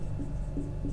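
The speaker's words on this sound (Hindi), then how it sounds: "यहाँ पे मैं लिख रहा हूँ इंडेक्स" A pen or marker scratches across a board in a short, close stroke of writing over a low background hum.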